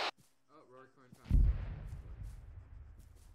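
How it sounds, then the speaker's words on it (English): Howitzer firing in a military shooter game: after a short burst of speech, a heavy deep boom lands and rolls out into a long, rumbling decay that fades over a couple of seconds. "And that's a howitzer shooting at us."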